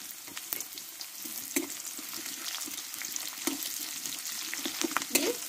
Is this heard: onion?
yes